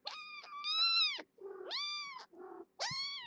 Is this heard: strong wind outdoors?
no